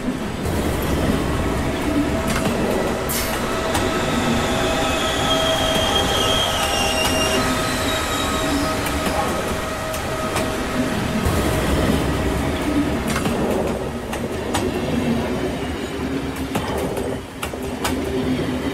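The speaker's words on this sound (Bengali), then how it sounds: "ট্রেন এসে থামলো একটা স্টেশনে।" A train pulls into a station and slows, its wheels squealing and rumbling loudly over a steady rolling drone, with some clattering near the end.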